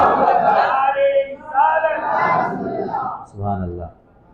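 A crowd at a religious gathering shouts Allahu Akbar in reply to a Nara-e-Takbir call, a loud mass of voices rising and swelling together, then falling away into a shorter final shout.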